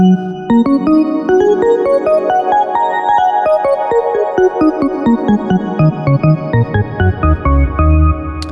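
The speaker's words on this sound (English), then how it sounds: "that is all you have to do to make the organ sound" A bright synthesized organ tone plays a rapid run of staccato notes climbing and falling, then settles into sustained chords, loud and up close.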